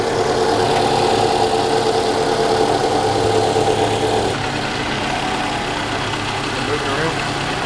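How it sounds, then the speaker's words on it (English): Running car engine with a worn, rusty alternator whose bearings grind, giving a steady close whirring drone with a rough mechanical edge that dips slightly midway; speech-like sound is mixed in under it. "the bearings making noise"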